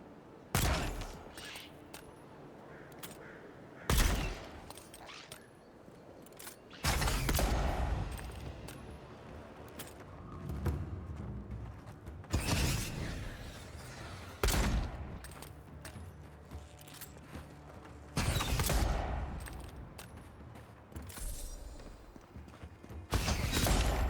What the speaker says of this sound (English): Firing guns in this game is so satisfying.